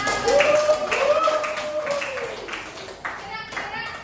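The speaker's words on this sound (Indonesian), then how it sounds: "Tepuk tangan." A classroom of students gives a quick round of clapping for a classmate, with children's voices and a teacher talking over and between the claps.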